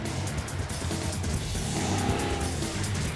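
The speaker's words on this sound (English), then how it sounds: "It's going for the drift there, a little understeer." A car slides into a drift with a little understeer, its tires squealing and engine roaring loud and close in an unbroken rush of noise.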